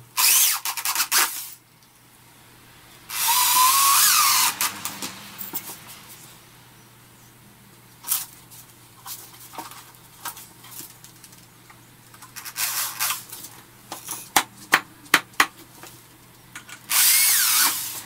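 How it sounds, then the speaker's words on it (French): A power drill whirs in loud bursts, driving Torx screws into wood, with quieter clicks and handling noises between runs. "c'est des vis avec un embout torse, à la perceuse c'est quand même très facile"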